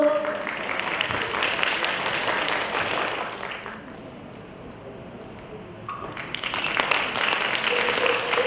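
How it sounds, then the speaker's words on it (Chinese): An audience at a Hakka choir exchange concert in Hualien applauds warmly after a choir's performance; loud, dense clapping fades to a lull midway, then swells again near the end. "热烈掌声，再次来欢迎他们的演出"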